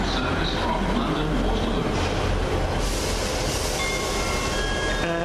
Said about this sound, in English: The train approaching platform 2 is the 1507 Southwest train service to Exeter St David's